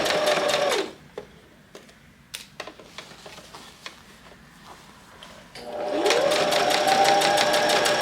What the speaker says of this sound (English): working on the outer layer of the jacket, I'm just sewing along where the pins are